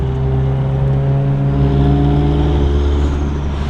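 A Chevrolet Silverado truck drifting on a compound lot, its engine holding a loud, close, steady drone with strong tonal harmonics that climb slightly as it revs.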